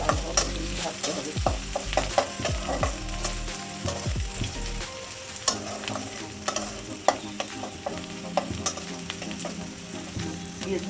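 Sliced onions fry in a pan with a steady low sizzle while a spatula scrapes and clatters against the metal in repeated stirring strokes, close and fairly loud.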